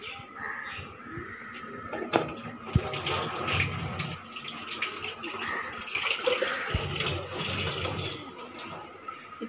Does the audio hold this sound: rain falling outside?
no